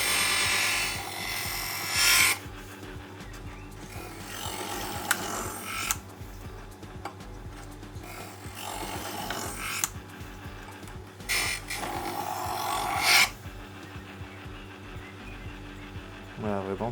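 A knife blade is drawn through a sharpener in a few separate passes, each a short, bright scraping swipe, spaced several seconds apart over a quiet, low background.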